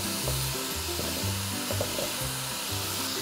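Chopped vegetables and a small peeled celeriac, cut into chunks, sauté in a pot with olive oil for a pork dish. The hiss is steady and continuous, with faint stirring knocks and no voices.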